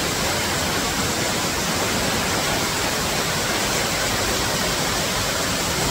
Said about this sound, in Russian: Вот этот водопад рукотворный.